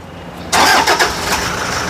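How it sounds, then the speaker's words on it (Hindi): Toyota Fortuner engine starting after a service: a sudden loud crank catches at once and settles into a steady mid-pitched idle, close and clear, with no voices. "इंजन का साउंड सुन सकते हैं आप, पहले इंजन का साउंड सुनो।"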